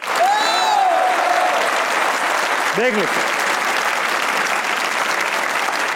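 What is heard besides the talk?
studio audience applause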